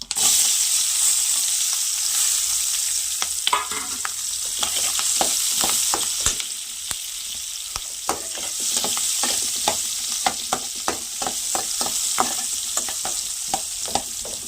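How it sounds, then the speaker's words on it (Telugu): Lentils and onions fry in hot oil in a pan for poha pulihora, a loud continuous sizzle with frequent rhythmic scrapes and clicks of a spoon stirring, close up and without talk. "ఇప్పుడు పప్పులు వేగుతున్నాయి ఇప్పుడు ఉల్లిపాయ వేసేద్దాం"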